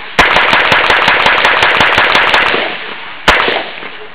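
Rapid automatic gunfire rattles loud and close in a dense continuous burst for about three seconds, then one final sharp shot rings out alone and decays.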